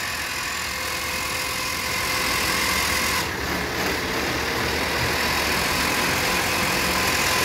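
Car transmission spinning on a dyno test rig, giving a loud, continuous mechanical roar with steady whine that holds nearly unchanged throughout.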